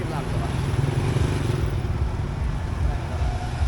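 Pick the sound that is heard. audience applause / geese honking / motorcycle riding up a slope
motorcycle riding up a slope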